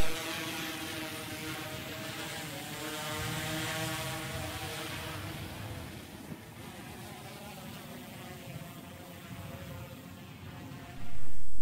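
Small camera drone flying in wind over downtown Crawfordsville, a steady whirring propeller drone with harmonic hum holding for about eleven seconds, then a sudden loud burst at the very end as it crashes.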